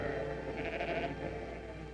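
A flock of sheep bleats beside a river, a brief wavering bleat rising over a steady wash of background noise, moderately distant and faint.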